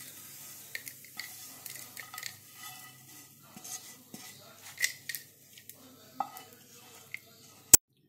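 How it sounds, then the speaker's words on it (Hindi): Metal spoon scrapes and taps against a pan as roasted whole spices for a suran (elephant foot yam) masala curry are moved onto a plate, quiet irregular clinks and scrapes ending in one sharp clink. "अब सभी मसालों को निकाल लेते हैं ठंडा करने के लिए प्लेट में।"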